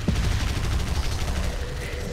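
Sustained gunfire in the video game God Mode, a dense, loud rattle of rapid shots with booming low end, continuous throughout with no pause.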